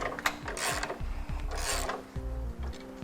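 A spare tire is cranked back into place under a 2010 Mazda CX-9 fitted with a trailer hitch, producing close ratcheting clicks and rasping, grinding scrapes in uneven bursts.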